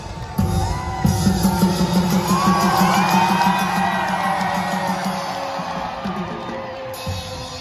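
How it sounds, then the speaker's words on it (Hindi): A large crowd at the Attari Wagah border parade cheers, whoops and hoots continuously for several seconds, with loud, near voices and rising shouts layered over a broad roar. "लोग इतना इंजॉय कर रहे हैं और ज़ोर ज़ोर से हूटिंग कर रहे हैं"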